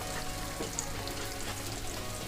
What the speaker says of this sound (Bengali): খুন্তিটা কনস্ট্যান্ট নাড়িয়ে নাড়িয়ে ডিমের ভুজিয়াটা এখানে করে নেবো